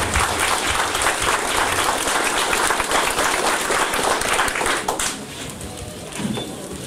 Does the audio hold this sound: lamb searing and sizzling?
no